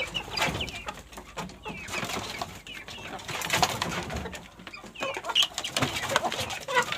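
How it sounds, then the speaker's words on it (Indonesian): Chickens in a coop at feeding time, a busy chorus of clucks, coos and pecking sounds, close and continuous, with scattered louder calls. "Ini ayam-ayam saya"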